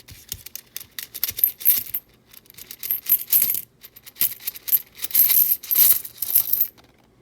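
Small wheat pennies, just broken out of a coin roll, spill and clink together in several loud, bright bursts with short pauses between them.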